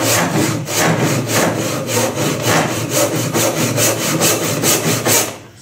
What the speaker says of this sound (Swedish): så börjar jag såga.